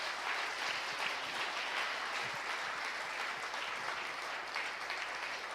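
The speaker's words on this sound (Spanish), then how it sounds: "Dale un aplauso al Señor" A congregation claps during a Christmas church service, a steady, dense patter of many hands heard from a moderate distance, with a low hum underneath.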